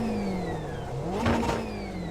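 A BMW GT race car engine laps the Nordschleife in iRacing, a steady mid-pitched drone that dips and then revs up again, close and continuous with no talk over it.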